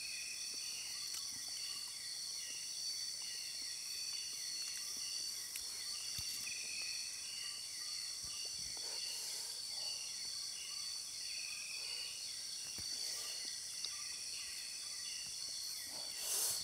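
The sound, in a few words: crickets chirping in the forest at night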